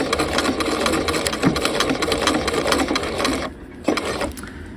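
A sewing machine backstitches along the facing of a half-scale jacket, running as a steady, loud mechanical whir that stops briefly near the end and then gives one more short burst.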